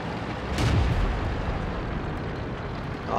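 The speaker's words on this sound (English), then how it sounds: "He spotted us and shot." A tank cannon fires in a video game, one heavy boom with a broad blast near the start that decays into a sustained rumble under steady background battle noise.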